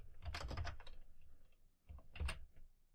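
Typing on a computer keyboard while entering a spreadsheet formula in Excel; two short, close bursts of quick clicking keystrokes separated by a brief pause, with no talk.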